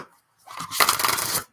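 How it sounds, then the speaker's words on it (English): Oracle cards being shuffled by hand, one short crisp burst of papery riffling that lasts under a second, close and clear after a brief quiet lead-in, with no voices. "I think one more shuffle."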